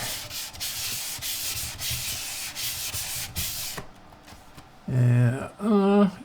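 Fine 1200-grit sandpaper rasps in quick, close, rhythmic rubbing strokes for several seconds, then stops as a voice briefly speaks.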